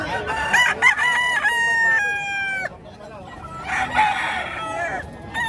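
A Hatch gray gamecock rooster at a farm crows in two loud, close bursts, the first long and strained and the second shorter after a brief pause.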